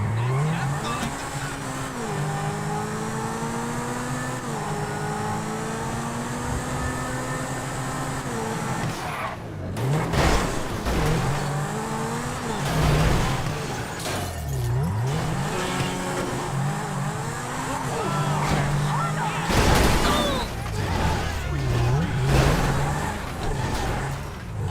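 A Lamborghini in the game GTA 5 revs and accelerates hard through rising and falling gear changes, its engine loud and close, with tire squeals and skids along the way.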